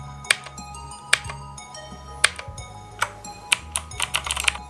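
Keys clack on a Vortex VX7 TKL mechanical gaming keyboard, close and crisp, first in a few separate presses and then in a faster cluster of taps, with no talking.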